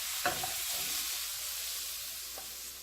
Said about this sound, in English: Mix this around.